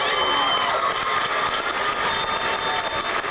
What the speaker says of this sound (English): Could you all give them a nice round of applause